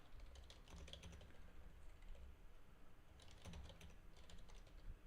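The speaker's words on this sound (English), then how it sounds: "I'm typing on my computer." Someone types on a computer keyboard with quiet, quick clusters of key clicks and short pauses between them, low in level against a faint background hum.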